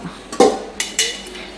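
A puttu steamer pot and other dishes clatter nearby, a few sharp metallic knocks and clinks in quick succession.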